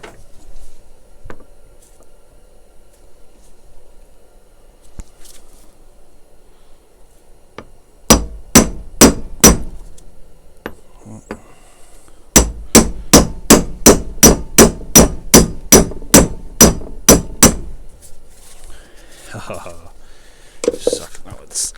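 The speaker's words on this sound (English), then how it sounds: "I'm just gonna take a socket and tap it in." A socket is tapped into a Gravely QH PTO part with sharp metallic hammer strikes, a short burst of about five hits followed after a pause by a longer run of a dozen evenly spaced blows, close and loud, with faint whispering around them.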